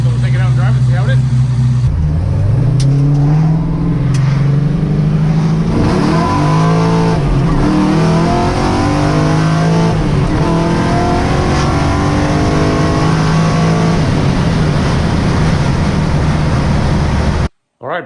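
A rally car on a test drive roars through repeated rising and falling revs as it accelerates and shifts, loud and close from start to finish, with a voice briefly heard over the engine.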